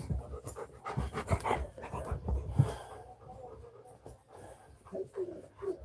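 A dog panting close by in a home, quick rough breaths in an uneven rhythm, with some shuffling and faint background noise.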